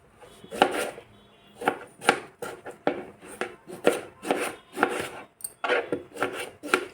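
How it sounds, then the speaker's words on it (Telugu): Knife chopping tomatoes on a cutting board for a tomato and drumstick curry, a run of close, crisp, irregular cuts with short pauses between strokes, no talking. "టమాటాలు అవి తీసుకున్నా కట్ చేసుకోవాలండి కట్ చేస్తున్నా"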